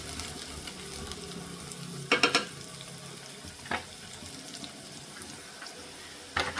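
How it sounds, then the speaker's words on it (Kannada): Onions and green chillies frying in hot oil, a steady low sizzle throughout with a few brief louder scrapes or clatters from stirring. "ಈರುಳ್ಳಿ ಸ್ವಲ್ಪ ಕೆಂಪಗಾಗೋವರೆಗೂ ಇದನ್ನು ನಾವು ಸ್ವಲ್ಪ ಫ್ರೈ ಮಾಡ್ಕೊಳ್ಳೋಣ."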